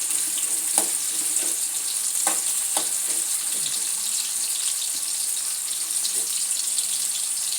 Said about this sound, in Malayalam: വറുത്ത് കോരി എടുക്കണം